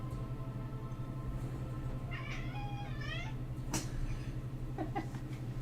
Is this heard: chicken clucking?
no